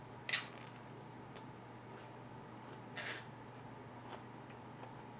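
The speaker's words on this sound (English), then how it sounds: "The bird." A pet bird gives a few short, faint calls indoors, a sharp squawk near the start and a weaker one about three seconds later, against a quiet humming room.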